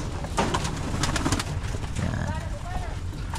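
A pigeon coos close by, its soft repeated calls sitting under someone speaking Tagalog and steady background noise.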